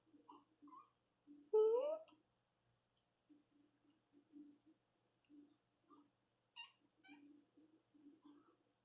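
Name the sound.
cat meowing for attention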